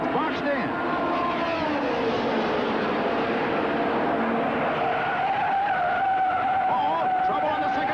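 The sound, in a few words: Indy race cars skidding at 1967 Indianapolis 500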